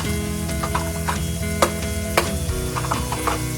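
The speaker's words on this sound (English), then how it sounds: "Now you're gonna add in your green onions." Green onions hit a hot pan on medium heat and sizzle steadily, with a few sharp spatters and stirring clatters popping over the continuous frying hiss.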